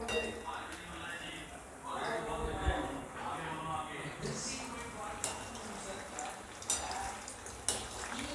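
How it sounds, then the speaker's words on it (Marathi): Soybean chunks coated in cornflour frying on a high gas flame for soybean manchurian, a moderate sizzle with occasional pan and utensil clinks, heard under a voice talking. "हाय फ्लेमवर आपण याला तळून घेऊया"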